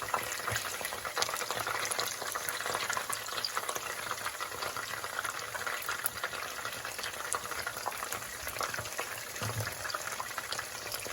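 Battered fish for Baja fish tacos frying in hot oil, a steady dense sizzle and crackle with fine bubbling that holds evenly throughout, close and moderately loud with no talking.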